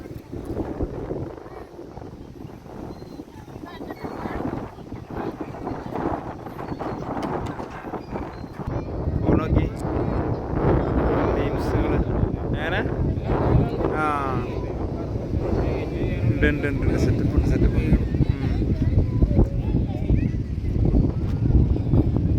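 Strong wind in Meghalaya buffets the microphone during an auto-rickshaw ride, in loud, irregular gusts that build over time, with a person talking under the rumble.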